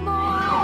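A police car siren wails with a steady rising and falling tone over a low rumble, close and loud, with no talk.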